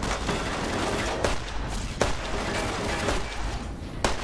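Gunshots in Fallout New Vegas, several sharp cracks spaced about a second apart over a steady, noisy background.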